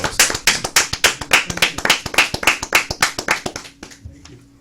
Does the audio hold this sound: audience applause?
yes